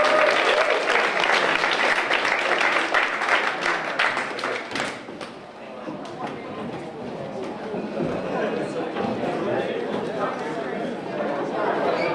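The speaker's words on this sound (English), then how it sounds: "another round of applause for all this amazing songs" Audience applause for songs at an under-25 film event, loud dense clapping that tapers after several seconds into crowd chatter and lingering scattered claps, with voices talking throughout.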